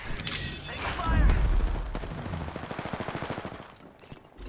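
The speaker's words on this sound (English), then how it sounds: "Taking fire." Rapid automatic gunfire in the video game Apex Legends, bursts of fast repeated shots with booming impacts, loud and close.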